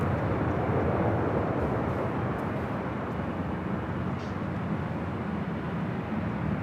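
A China Eastern heavy jet takes off at LAX, its engines making a broad, steady roar that stays loud and even throughout, heard at a distance without voices.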